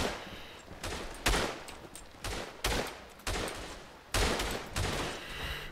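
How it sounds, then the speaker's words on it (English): Gunfire in the World War I shooter Tannenberg: repeated heavy volleys of rifle and machine-gun shots land every second or so over a constant background of battle noise, loud and close. "But we're just pumping bullets all over the place"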